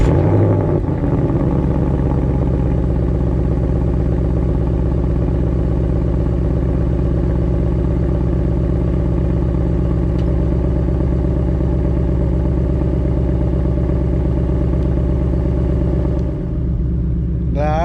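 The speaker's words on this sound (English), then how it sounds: "obviously you guys could hear the nice idle, just regular stock setup" A Ford Mustang GT with its stock active-valve exhaust idles steadily, a deep, even burble held close and alone for many seconds before a brief blip near the end.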